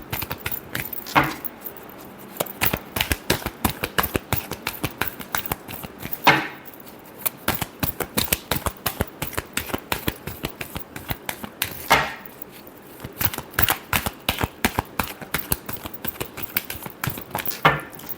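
Tarot cards being shuffled during a Taurus weekly reading, a long run of rapid, crisp riffling clicks in bursts separated by brief pauses, close and fairly loud, with no talking.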